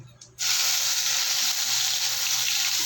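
A ginger, garlic, onion and chili paste hits hot oil in a pan and sets off a sudden, loud, steady sizzle that keeps going after a brief quiet start.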